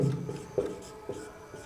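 Soft scratching of hand-writing strokes while working out a class 8 maths exercise, a few short rubbing pen or chalk marks close by, with no voice.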